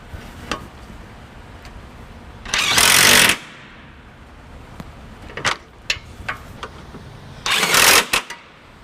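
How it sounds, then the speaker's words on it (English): A socket wrench tightens the nuts on a trailer hitch being installed on a 2018 Chevrolet Cruze hatchback, with two loud bursts of rapid ratcheting clicks separated by quieter, scattered metallic ticks and taps. "Now I'm going to go ahead and tighten them down with my socket here."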